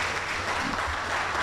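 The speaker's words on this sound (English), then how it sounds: "we think that deserves a round of applause" An audience at an annual research day event applauds in a dense, even burst of clapping, steady and fairly loud for the whole brief moment.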